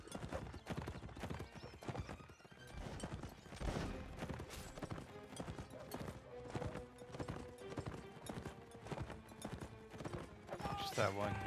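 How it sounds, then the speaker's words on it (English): Horses galloping in a Napoleonic Wars battle video game, a dense clatter of hooves with whinnies and occasional distant gunfire, while voices talk over it. "Horses all around."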